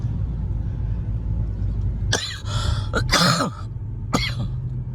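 Several sharp coughs, a short cluster of three or four bursts, over a low steady engine rumble.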